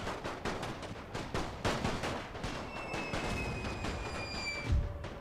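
Rifle and artillery fire from troops in a Great War strategy game, a dense run of sharp cracks and thuds in irregular rapid succession, mid-distance, with a heavier boom near the end.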